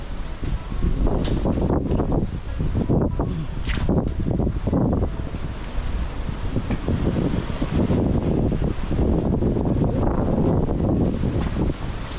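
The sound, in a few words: wind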